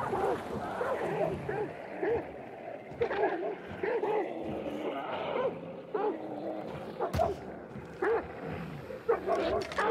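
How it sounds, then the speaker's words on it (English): Dogs in the Hunt: Showdown game bark and growl repeatedly in rough, irregular bursts at mid distance over a murky ambient background, with scattered sharp knocks. "those dogs are probably barking at me"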